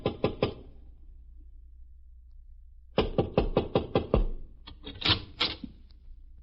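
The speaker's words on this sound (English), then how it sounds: "Want me to knock?" Knocking on a door: three quick raps, a pause, then a longer run of sharp knocks followed by a few more scattered raps, close and distinct in a quiet room.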